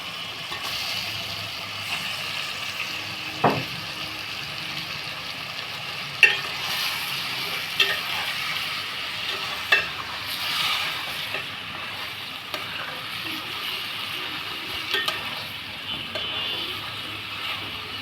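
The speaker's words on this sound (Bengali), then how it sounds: "এখন আমি মাংসটা দিয়ে দিব।" Mutton frying in oil in a pan with spices for a Bengali oily curry, giving a steady soft sizzle with occasional stirring scrapes and clinks, fairly quiet and with no talk.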